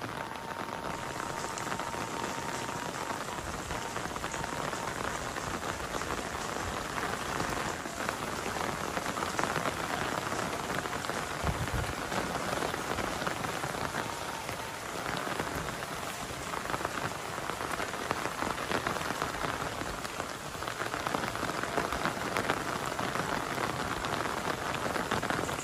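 Heavy morning downpour at Tanggeung Kolot, a dense, steady hiss of rain pattering on surfaces without a break, loud and close throughout.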